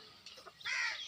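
A big desi rooster, a heavy tiger-breed cock about to be weighed, gives a short, fairly faint call that rises in the second half, with no talking over it.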